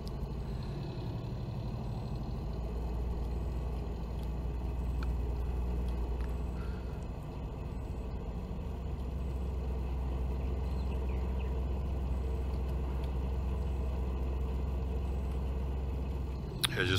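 A vehicle in Farming Simulator 19 rolls down a road on a Slovenian map with a steady, low engine drone. A voice talks over it throughout.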